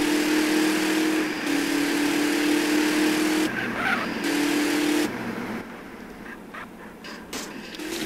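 A car in GTA San Andreas drives with a steady, strained engine whine broken by short gaps and tire skids, then fades into quieter, choppier driving noise toward the end.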